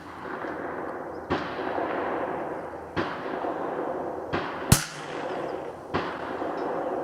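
A KSA 722 .22LR rifle fires at a target 300 yards away outdoors. Several sharp cracks come at spaced intervals, one noticeably louder, over steady wind-like background noise.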